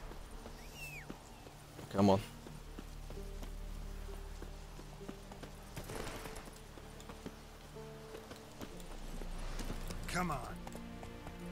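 Horse hooves galloping in The Witcher 3: Wild Hunt, a soft steady clatter in the game's soundscape, partly under a man's spoken urging and occasional background game sounds.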